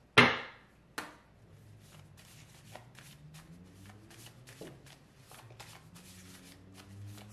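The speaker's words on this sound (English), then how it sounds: "Let's pull some of these cards." Tarot cards being shuffled by hand, with a loud riffle-like burst at the start and a second sharp clack, then soft repeated card flicks and handling noises under a low background hum.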